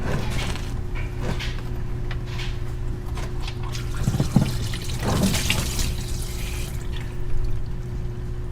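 Water draining out of the engine of a 1994 Ford Mustang GT that sat for three years, a steady close trickling and splashing flow over a constant low hum, with a few louder gurgling surges.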